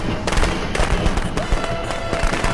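Rapid firecrackers crackle and pop in irregular bursts within the video game Friday the 13th: The Game, dense and loud throughout with a continuous rumbling game background.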